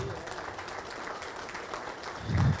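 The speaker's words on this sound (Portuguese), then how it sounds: "Uma salva de palmas." Audience applause at a Portuguese-language lecture on employee development, a brief quiet patter of clapping that swells louder near the end.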